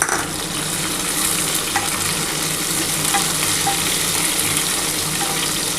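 Chopped onion and tomato sizzle in hot oil in a pan for a home-style khichuri, a steady close frying hiss with occasional stirring scrapes and no talk.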